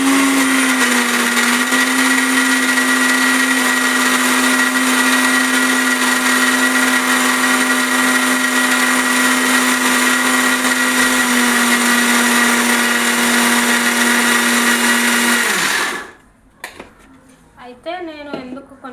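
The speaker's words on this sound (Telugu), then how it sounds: "అయితే ఇది ఒకసారి మిక్సీ వేసేసుకుంటే మన పచ్చడి" An electric mixer grinder blends tomato chutney with a loud, steady whirring drone for about fifteen seconds, then winds down abruptly, followed by a few brief clatters.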